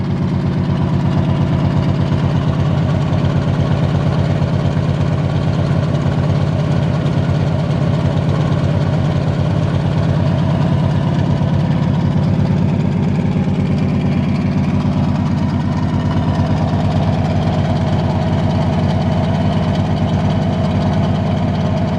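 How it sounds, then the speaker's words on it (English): A 1978 Chevrolet K20 pickup engine idles steadily with a deep, rumbling exhaust burble through cheap headers and old turbo mufflers, close and loud, running unbroken throughout. "Not a bad sound for cheap headers and old turbo mufflers I had laying around."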